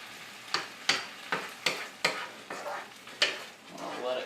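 Cooked ground turkey simmering in sauce in a pan over low heat, with a steady sizzle under about nine rhythmic stirring scrapes, each a crisp swipe of the spoon close by.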